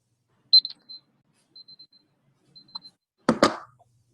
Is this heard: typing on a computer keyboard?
no